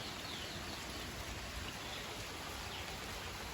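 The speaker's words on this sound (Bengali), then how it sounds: "পুরো রাত ধরে বৃষ্টি হইতেছে" Storm rain in Brahmanbaria keeps falling on a guava garden, a soft, even wash of drops and patter that sounds close and unbroken for a few seconds.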